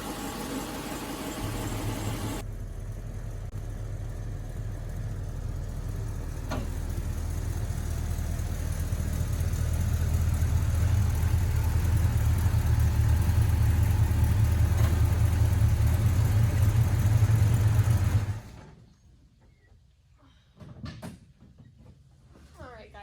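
A Dodge Charger or Plymouth Roadrunner muscle car engine idles with a steady low rumble that grows slightly louder, then cuts off and leaves near silence.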